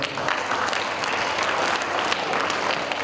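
Audience at a Patanjali yoga gathering led by Swami Ramdev bursts into sustained applause, a dense, even wash of many hands clapping that carries through the whole stretch.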